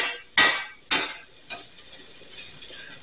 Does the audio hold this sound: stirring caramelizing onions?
yes